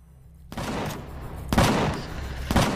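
Rapid bursts of automatic gunfire from weapons in the space survival game Empyrion – Galactic Survival, loud and close, with three dense volleys starting about a second apart.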